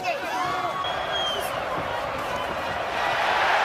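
A boxing arena crowd at the Devin Haney vs George Kambosos Jr. fight keeps up a loud, continuous roar that swells slightly toward the end, with faint voices mixed into the din.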